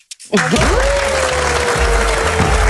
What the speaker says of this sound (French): Les applaudissements de toutes les équipes qui étaient en plateau pour ces dernières minutes d'antenne